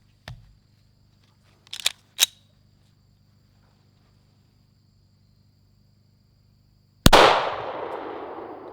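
A 9mm pistol shot fired at a target during penetration testing: a single sharp, loud crack near the end followed by a decaying echo, preceded by a few faint clicks and handling noises.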